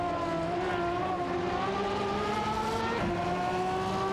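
A McLaren and a Pagani race in a racing video game, their engines roaring with rising, sustained whine tones that climb and shift together, loud and continuous with no talking.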